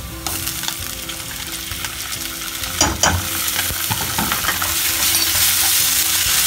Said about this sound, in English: So now dropping in ginger garlic paste as well as 2 green chilies, and we'll saute them for about 4 to 5 minutes.